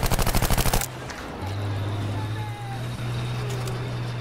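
Rapid automatic gunfire in Battlefield V rattles off in a fast, evenly spaced burst of about a dozen loud shots, then cuts to a steady engine drone with faint distant pops beneath it.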